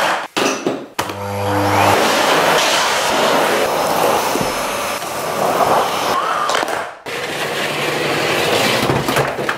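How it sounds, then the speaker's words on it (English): A household vacuum cleaner runs loud and steady for most of the stretch, with a brief cutoff near the start and another dip shortly before the end. "I actually like vacuum cleaning"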